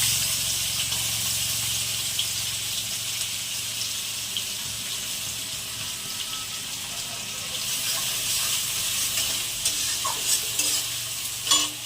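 Chopped onion hits a hot pan and sizzles steadily and loudly for the whole stretch, with a few stirring scrapes and clinks near the end and no one talking.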